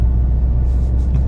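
Fiat Multipla car engine running while driving, a steady low rumble heard from inside the cabin with no one talking.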